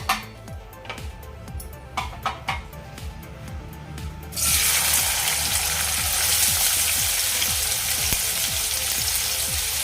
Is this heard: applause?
no